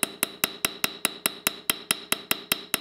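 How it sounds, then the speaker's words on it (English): Sharp metallic hammer strikes texturing a saddle ring in a steady, even rhythm, about fourteen ringing taps in three seconds, close and clear with no talking. "if you want to hammer your ring, now is the time to do it"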